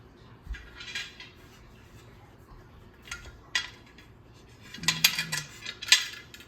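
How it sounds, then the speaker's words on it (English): Metal lid set onto a stockpot of homemade chicken stock: a few light clinks and scrapes, then a louder cluster of ringing metallic clatters near the end, close and without talk. "I'm going to show you how to put the lid on"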